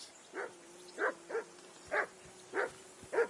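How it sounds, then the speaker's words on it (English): A dog in the video game Kingdom Come: Deliverance II barks six times in an irregular rhythm, each bark short and moderately loud over a steady low hum in the background. "I assume you can hear that damn dog of yours barking."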